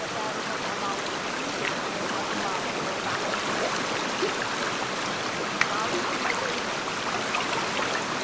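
A clear mountain stream of the Polynesian island of Tahiti runs over rocks as steady, broadband rushing and gurgling water, close by and constant throughout, with small splashes and trickles, and no voices.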